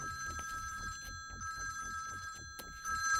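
A mobile phone ringtone trills steadily and fairly close, with a repeating electronic bell pattern over a soft rhythmic backing, with no voices.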